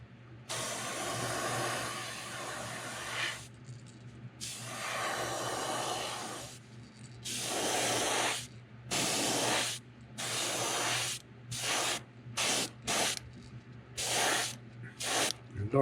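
Spray paint is applied to an old Rapala Wart fishing lure in a series of close hissing bursts, first long sustained sprays, then shorter quick puffs separated by brief pauses.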